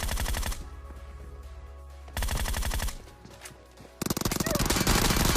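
UMP submachine gun firing in PUBG, rapid automatic bursts in three loud clusters separated by brief gaps, the last burst dense and sustained, with game ambience between shots.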